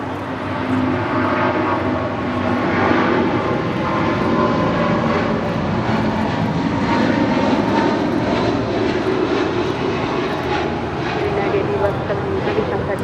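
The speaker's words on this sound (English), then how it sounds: "United Airlines 1170 now rolling on 25 right, a 777-200, departing to Honolulu." A United Airlines Boeing 777-200 takes off on runway 25 right at LAX, its jet engines giving a loud, sustained roar that holds steady throughout while a voice talks over it.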